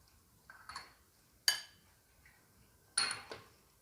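A spoon stirs ground roasted cumin, dried coriander and turmeric in a bowl, several separate clinks and scrapes of metal on the dish with quiet gaps between, close and fairly faint.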